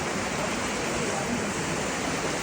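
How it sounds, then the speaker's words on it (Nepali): A hillside waterfall in Tasmania roars as a dense, constant wash of falling water, loud and unbroken throughout. "ल फल्स हेर्न आयो है पहाडमा"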